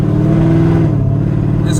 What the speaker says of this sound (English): This car is so fucking loud trying to daily this shit.